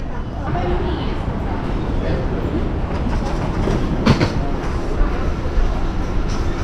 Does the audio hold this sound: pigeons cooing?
no